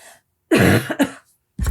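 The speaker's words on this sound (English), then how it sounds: "Gonna cough real quick." A single person coughs during a podcast recording: a short, harsh burst of a couple of hacking coughs, close and loud, followed by a pause and the start of another cough.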